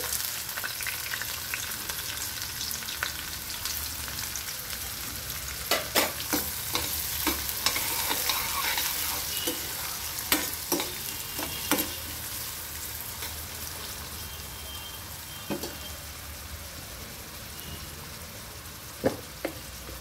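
Chopped onions are stirred into a pan of hot oil holding an urad dal and cumin tempering for a chili and tomato curry, giving a steady close sizzle broken by scattered scraping clicks of the spoon.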